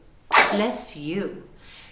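A single sneeze bursts out sharply, followed by a short murmured voice underneath as talk resumes.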